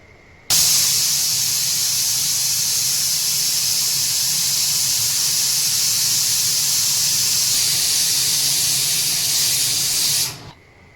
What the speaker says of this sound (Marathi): आता कुकरचं झाकण लावा आणि 3 शिट्ट्या होऊन द्यायच्या.